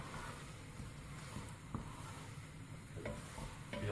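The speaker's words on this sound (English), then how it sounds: "Give it a good whisk round." Keema mince and spices stirred in a pan, a faint, continuous frying hiss with soft scraping movements throughout.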